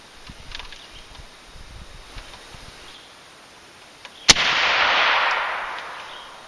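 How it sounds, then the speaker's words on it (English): A gun fitted with a VERS50 silencer fires a single suppressed shot, a sharp close crack followed by a hissing rush of impact noise that fades over about two seconds after a quiet lead-in. "Let's shoot the pin on the right, see if it looks any different."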